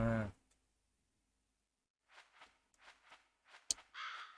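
Crow cawing in the Demon Slayer video game, a loud harsh call at the start, then silence before a run of softer clicks, footsteps and short noises.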